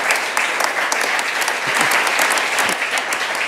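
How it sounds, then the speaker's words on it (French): An audience at a business show applauds a tennis federation guest, a dense burst of clapping filling the room steadily for several seconds, close and loud with no voices over it. "Applaudissements s'il vous plaît pour Jean-François Vilotte."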